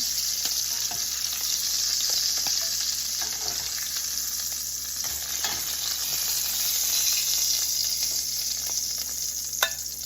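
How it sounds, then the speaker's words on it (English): Constant hissing sizzle of lamb chops in a hot pan with the heat turned off, close and steady, with a few soft clicks and no talking. "It hasn't stopped sizzling yet, but it will pretty soon."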